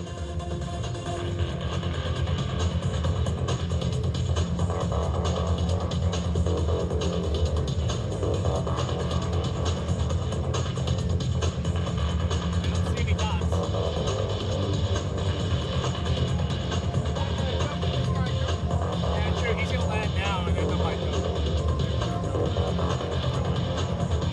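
A C-17 Globemaster III military transport jet passes at an airshow, its engines a loud, steady, broad roar that holds throughout without fading.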